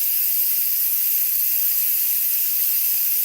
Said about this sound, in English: that's going to continue to let all that steam up out of there